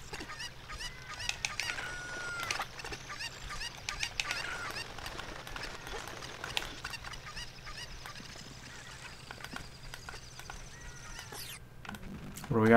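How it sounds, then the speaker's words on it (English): Cucco chickens cluck and squawk in a Zelda: Ocarina of Time randomizer game, with scattered bird calls repeating over game sounds and background noise for about thirteen seconds before a louder sound at the end. "Wait, I need a chicken."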